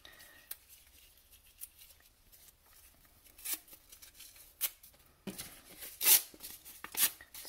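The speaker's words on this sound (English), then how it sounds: "So you can start tearing up some paper too," Sheets of colored paper being torn into scraps by hand for seed paper, a series of quiet separate rips and crinkles that grow louder and sharper toward the end, in a quiet room.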